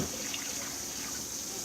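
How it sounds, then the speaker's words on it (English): Water runs steadily into a pot being filled for a home seafood boil, a continuous close rushing pour with no break. "I just keep filling it until I get as much water as I need in there."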